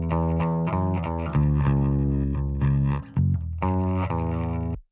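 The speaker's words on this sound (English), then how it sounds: "I just sent this bass to my parallel chain, the bass para, for a bit of distortion that I'm also compressing." Electric bass run through a parallel chain of distortion with compression, playing sustained gritty notes in a steady riff with brief gaps, loud and dense with no voices.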